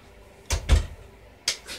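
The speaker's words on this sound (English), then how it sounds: "Close the door." A door closing indoors in two distinct bursts: a close thud with a firm low knock in the middle, then a second sharper clack about a second later, both standing alone in quiet.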